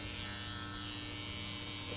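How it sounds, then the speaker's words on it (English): An electric hair trimmer buzzes steadily up close while cutting hair during a mid skin fade, a constant even drone throughout with no speech. "Now get your trimmer, and there is a small line between the super zero and the zero."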